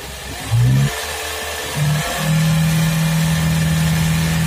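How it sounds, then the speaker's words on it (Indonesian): Toyota Vios Gen 3 sedan engine idling right after starting on the first try following an intake manifold cleaning with a gasoline flush; a close, steady mid-low hum with brief rev bumps early on, settling into an even idle. "ini cuma 1 kali start saja mesinnya langsung hidup"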